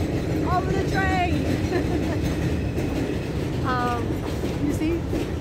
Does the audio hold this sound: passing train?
yes